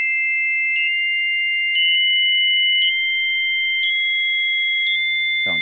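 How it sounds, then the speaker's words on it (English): Pure electronic sine tones hold steady in a combination-tone demonstration, two sustained pitches with a third note stepping upward in short glides, ending in a brief thump. "I can raise this third note, and we get different combination tones down here"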